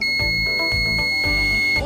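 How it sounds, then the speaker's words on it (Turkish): An Arduino buzzer alarm set off by a reed switch sensor gives a loud, steady electronic tone that pulses in regular bursts, about one every half second, with no talk over it. "buzzer devreye girerek sesli uyarı veriyor"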